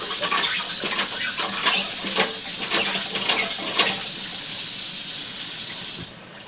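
Tap water runs steadily into a sink in a house with plastic pipes during a sewer inspection, a constant close splashing hiss that cuts off near the end.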